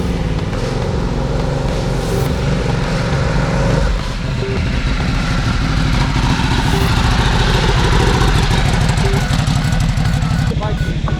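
Vyrus 988 motorcycle engine running close by, a loud, rapid pulsing idle that stays steady, with a sharp rev or two and voices talking over it.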